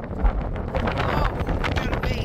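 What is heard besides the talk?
strong wind noise on microphone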